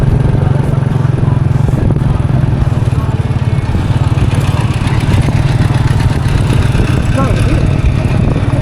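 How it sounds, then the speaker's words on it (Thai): Farm tractor engine running steadily nearby with a low, rough, chugging drone, continuous and loud from start to finish. "ขี่รถไถมาก"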